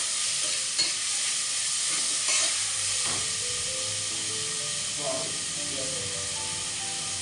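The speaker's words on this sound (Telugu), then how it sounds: "టమాటా ముక్కలు వేసి 1-2 నిమిషాల పాటు కుక్ చేసుకుందాం." Tomato pieces sizzle steadily in a pan for mutton curry, with a constant bright frying hiss and occasional soft scrapes of stirring over it, close and loud throughout.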